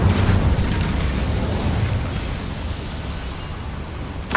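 An Incendio fire spell cast in the video game Hogwarts Legacy bursts out as a loud, sustained whooshing roar that slowly fades, with a sharp flare returning at the very end.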